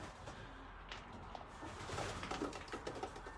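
Pigeons in a racing loft, soft low cooing and faint shuffling close by, continuing steadily with a light background hum.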